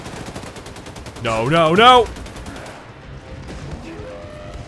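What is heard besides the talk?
gunfire in video game Wolfenstein 2: The New Colossus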